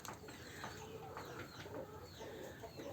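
Scruffy farm hens and roosters clucking in a yard, a flock of five hens and two roosters giving scattered short clucks and calls at a moderate distance.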